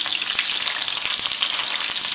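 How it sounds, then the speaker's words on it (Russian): Chopped onions fry in a hot pan for a chicken-in-gravy dish, giving a loud, steady close-up sizzle with faint stirring clicks and no talking. "И жарим лук."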